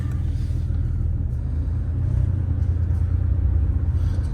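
A 1984 Porsche 911 Carrera Targa is on the move, with a steady, deep engine and road rumble heard from inside the car.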